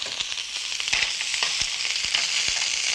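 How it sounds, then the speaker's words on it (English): Juices hit a hot sauté pan and sizzle steadily, a close, bright hiss with small crackles and occasional faint clinks. "You'll hear the juices hit the hot pan."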